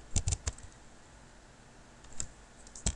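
CSS code is typed on a computer keyboard in quick bursts of crisp clicking keystrokes, with a quiet pause in the middle before a few more taps.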